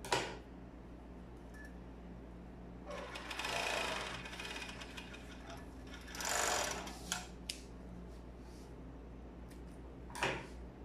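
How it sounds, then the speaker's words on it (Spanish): A sewing machine stitches a shirt collar in bursts of fast mechanical whirring, with pauses and soft handling clicks between runs, fairly close and without speech. "Esta partecita del cuello la vamos a coser por aquí. Todo lo realizo con esta máquina."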